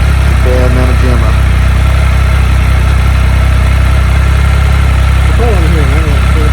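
A 2019 Triumph Speed Triple 1050 RS motorcycle idles outdoors in Oregon, a loud, constant low engine drone filling the whole stretch, with a voice briefly heard over it.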